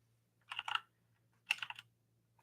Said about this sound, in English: I'm going to go here and type initial balance.